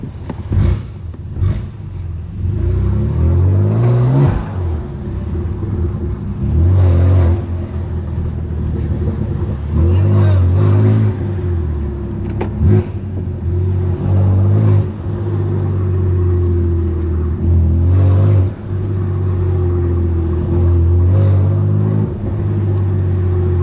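A BMW F80 M3 Competition with a straight-pipe exhaust revs and pulls through city driving, its loud, deep exhaust rising and falling in repeated surges of acceleration and crackling between shifts, heard from inside the car.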